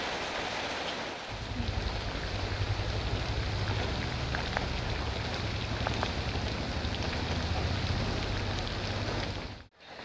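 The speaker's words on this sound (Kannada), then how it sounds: "ಇವತ್ತು ಬೆಳಗಿಂದ ಫುಲ್ ಮಳೆ ಬರ್ತಾ ಇದೆ" Steady light monsoon rain patters continuously on a surface, a soft even hiss with scattered droplet ticks throughout, no voices.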